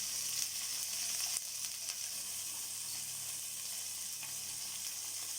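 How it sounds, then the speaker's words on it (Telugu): Raw tamarind and green chillies fry in oil along with tamarind pulp, giving a steady, fairly quiet sizzle and hiss with a few faint stirring clicks and no talking. "పచ్చి చింతకాయ, పచ్చిమిర్చి అండి. వీటికి తగినంత నూనె వేసి ఉడికించుకుందామండి, చింతపండుతో సహా."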